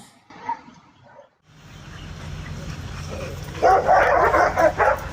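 A dog tied to a porch pillar barks and yips in short bursts amid a rising rumble and commotion, loud and close, with whimpering tones between.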